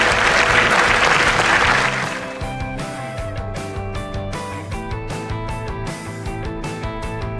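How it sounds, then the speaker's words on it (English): Dense, loud applause from an audience at the TIL Asia Success Awards corporate event, filling the opening two seconds before dropping away into music with sustained tones that carries on at a steady level. "please give yourselves a big round of applause for being here today"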